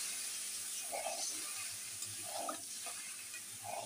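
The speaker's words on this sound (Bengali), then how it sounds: "এবার একটু ফুটতে দেবো।" Fish curry with eggplant simmers in a pan, a soft steady bubbling hiss with a few faint stirring clinks, quiet and continuous.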